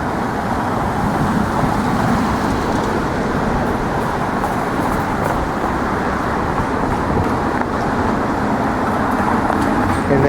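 Steady, dense road traffic rushes past at the entrance to the West Side Highway, a continuous loud roar of cars, buses and trucks from nearby with no pauses or talk.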